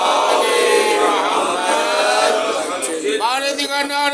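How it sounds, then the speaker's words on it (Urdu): A large congregation at a Shia majlis in Karachi loudly recites salawat together, a dense wash of many voices chanting in unison, sustained and close throughout. "عظمت امام موسیٰ کاظم علیہ السلام بآواز بلند صلوات"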